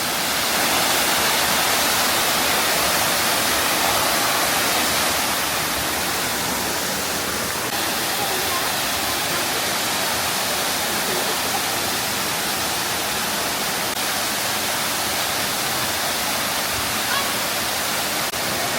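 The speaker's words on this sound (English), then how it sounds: "damn, we're at the waterfalls." A waterfall in Ubud, Bali, heard up close as a loud, constant broadband roar of falling water that keeps going without a break.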